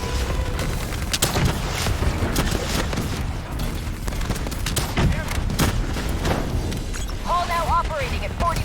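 Explosions and gunfire in a Black Ops 3 campaign battle on Realistic difficulty: dense bursts of shots and heavy booms pile up without pause, with missile impacts and electronic chirps near the end.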